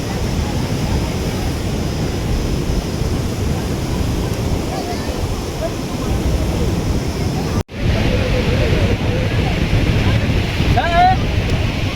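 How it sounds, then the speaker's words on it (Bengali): Sea waves surge and crash at Bakkhali beach as a cyclonic surge pushes in, a loud continuous roar mixed with wind buffeting the microphone, briefly cut off before resuming. "সমুদ্রের ঢেউ এখন জোর আরও বাড়ছে।"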